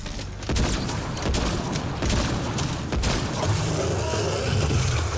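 Weapons fire in the sci-fi shooter Mass Effect: Andromeda, a steady barrage of loud, close shots and booming bursts with sharp cracks at irregular intervals, no one speaking over it.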